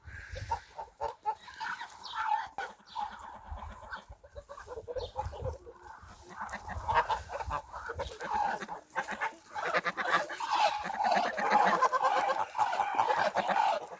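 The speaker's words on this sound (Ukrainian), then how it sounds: "качки тут у нас вже понаїдалися з гусиками" Ducks and geese honk, quack and cackle continuously at moderate distance, a busy mixed farm flock chattering over faint background noise.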